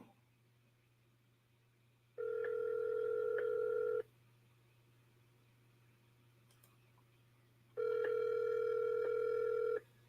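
A phone line rings out on a call to a seller that may go to voicemail, with two long ringback tones, each about two seconds, separated by a quiet gap over a steady low hum.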